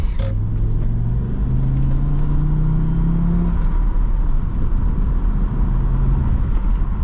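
An Audi RS2 engine revs and accelerates, its deep rising drone climbing steadily for a few seconds over a constant loud road rumble.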